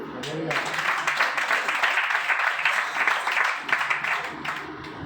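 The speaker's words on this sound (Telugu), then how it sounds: "క్లాప్స్ కొట్టండి" An audience at a talk claps together in a steady wash of applause lasting several seconds, loud and sustained, with a voice heard at the start.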